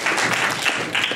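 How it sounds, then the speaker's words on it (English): Lecture audience at a neuroscience and magic talk giving a round of applause, a steady dense wash of clapping filling the room without pause. "Give yourselves a round of applause."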